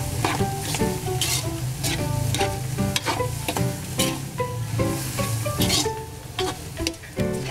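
Pork cubes sizzle loudly in a hot pan as they are stirred, with a steady frying hiss broken by repeated sharp scrapes and clinks of the utensil against the pan. No one speaks.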